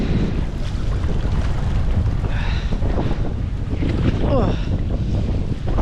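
Wind gusting across a gravel pit lake, a constant loud roar of buffeting air on the microphone with faint water lapping, with a couple of brief higher tones breaking through.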